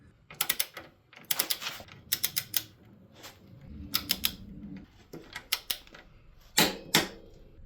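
Torque wrench ratcheting and clicking while tightening the engine mounting bolts of a 1979 Honda XR500 to 65 foot-pounds, heard as close, sharp bursts of rapid clicks separated by short pauses, with no talking.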